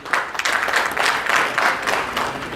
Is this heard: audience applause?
yes